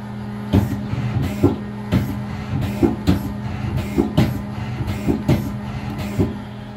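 A 1999 Miyano BND 42C5 CNC lathe indexes its turret over and over, a regular series of sharp mechanical clunks roughly every half second over a steady low motor hum, close and moderately loud.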